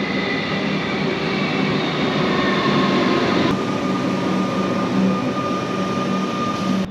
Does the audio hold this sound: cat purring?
no